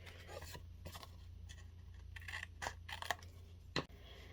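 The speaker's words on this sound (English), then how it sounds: "So just go ahead and trim along the edges here." Card paper edges being trimmed with a blade on a pumpkin house card, a series of soft, close snips and scrapes in irregular bursts, quiet against a faint background hum.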